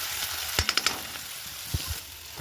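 Onion, garlic and cumin frying in oil in a home kitchen pan: a steady broad sizzle with a quick run of sharp clicks early on and a couple of utensil knocks later, close by with no talking.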